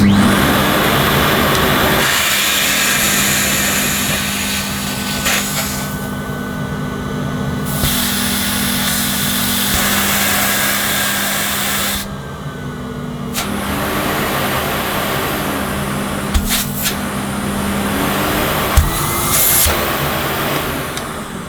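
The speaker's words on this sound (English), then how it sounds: "Let's see what it does with automatic with the hose on." A vintage 1980s Miele S240i cylinder vacuum cleaner runs with its hose attached, a loud continuous roaring whine whose pitch and strength shift a few times as the airflow changes.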